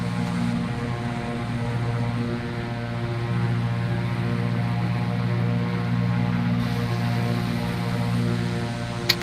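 Propeller aircraft droning in the Prepar3D v3 flight simulator, a steady even hum of engine and prop with layered tones, continuous at constant loudness throughout.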